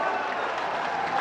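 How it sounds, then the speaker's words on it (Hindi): A large crowd at a public programme for a state government's first anniversary with the Prime Minister, applauding in dense, steady continuous clapping throughout. "जोरदार ताली, टिके जोरदार ताली एवं हुड़ाहुड़ी हो जाओ"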